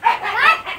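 A dog gives a short bark, a quick close yap that ends in under a second, heard alone.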